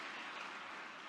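Audience applause for a speaker at a book release event, a soft, steady wash of many hands clapping that sounds distant and continuous, with no talking.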